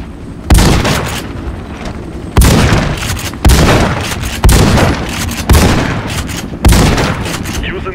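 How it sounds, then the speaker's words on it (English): Shotgun blasts at a shooting range in the game Warface, six loud booming shots spaced about a second apart, each decaying into a reverberant tail. "Shotguns are not accurate, but very powerful in close range."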